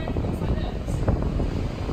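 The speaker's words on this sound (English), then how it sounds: "It's so windy." Wind buffets a microphone outdoors in London, a steady low roaring rumble that fills the whole moment, loud and close.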